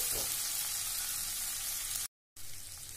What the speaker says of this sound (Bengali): মশলাটাকে আমি খুব সুন্দর করে কষিয়ে নেব।